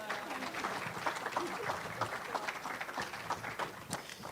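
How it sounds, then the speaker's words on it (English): A small audience at a music and poetry open mic gives a round of applause, scattered clapping with a few louder claps, mixed with some murmured voices. "them a round of applause real quick"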